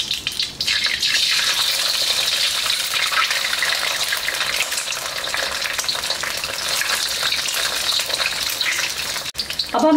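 Two eggs for chicken fried rice hiss and sizzle hard in a hot pan, a loud, dense, continuous frying sound held close for the whole stretch, with a short stir near the end and no talking.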